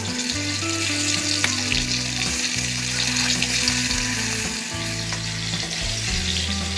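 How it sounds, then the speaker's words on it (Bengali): Ash gourd pieces frying in mustard oil on a clay stove give a loud, continuous sizzle with occasional stirring clicks, and a low hum runs underneath. "তো এদিকে চাল কুমড়গুলি আমার হালকা ভাজা হয়ে গেছে, উনুনের আঁচটা বাড়িয়ে হালকা ভেজে নিয়েছি"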